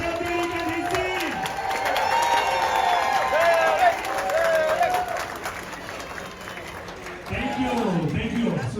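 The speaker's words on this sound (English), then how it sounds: "Everyone, big applause for Chef Derek and his team." A crowd aboard the Carnival Sunrise cruise ship claps and cheers for the executive chef and his team. The applause rises beneath an amplified announcer who keeps talking through most of the stretch.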